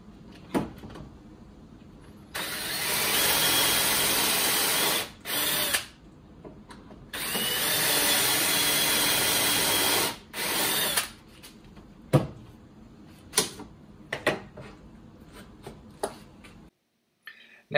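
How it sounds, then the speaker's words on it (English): A power drill bores holes in wood for a Mission style coffee table, running in two long bursts of several seconds each, loud and steady, followed by a few short clicks and knocks of handling. "Should be good to go to drill."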